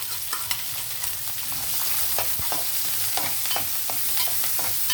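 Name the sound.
frying onions and curry leaves in a pan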